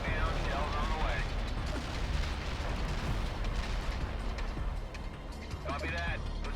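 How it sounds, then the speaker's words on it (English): Artillery shells landing in the battlefield strategy game World in Conflict, a dense, continuous rumbling barrage of overlapping blasts with a voice talking over it. "Coordinates locked down. Shells on the way."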